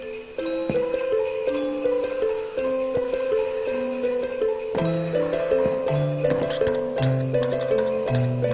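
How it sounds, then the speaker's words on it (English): Sleigh bells jingling in a Christmas-themed Minecraft mod, overlaid on a tinkling chime melody with repeated bright bell notes and stepped tones, steady and fairly loud throughout. "it does make a kind of sleigh ring, which is cool. Sleigh bells,"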